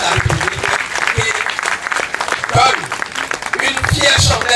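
A crowd at a traditional ritual celebration applauds the president of the Republic, clapping loud and close, mixed with voices and cheering throughout.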